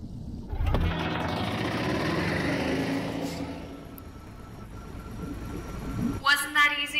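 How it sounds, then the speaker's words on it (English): A spaceship engine in the VR game I Expect You to Die engages for ascent, a sustained, loud droning roar that builds, then fades over several seconds, with a burst of other effects near the end. "The engine is engaged and we are starting our ascent."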